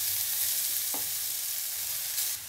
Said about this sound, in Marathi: आता आपण किसलेला बटाटा टाकू।